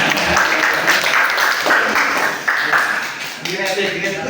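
A classroom of students breaks into a short burst of clapping for a student, loud and close, with voices talking over it.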